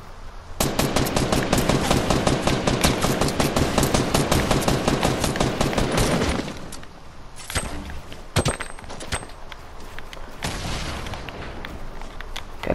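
A Fortnite Battle Royale match: about six seconds of rapid automatic gunfire, then a few sharp explosive blasts, like a grenade going off, spaced over the quieter remainder.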